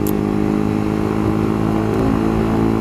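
Motorcycle with a loud exhaust revving steadily in traffic, a close continuous rumbling drone that holds throughout with slight swells in pitch.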